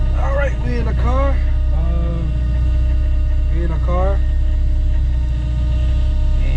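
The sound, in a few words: car engine running during a ride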